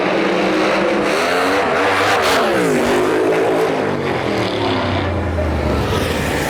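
Outlaw drag race cars roar loudly off the line at a Snowbird Outlaw Nationals event, engines revving hard with a rising and falling pitch and some tire squeal, a dense continuous roar that fills the whole stretch.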